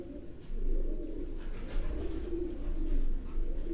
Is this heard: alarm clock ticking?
no